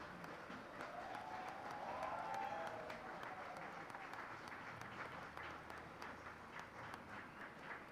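Audience applause at a Latin American health quality and safety forum: a continuous, even wash of clapping from a crowd that is heard faintly and at some distance.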